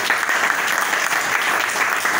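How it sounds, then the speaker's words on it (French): Audience at a NeoLife health and business presentation claps for invited guests, a dense, steady burst of applause from a crowd, loud and continuous throughout. "Est-ce que nous pouvons applaudir pour nos invités?"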